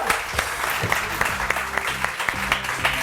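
A studio audience on a morning TV show claps loudly and steadily, with a low, tonal hum of voices or music running beneath the brisk applause.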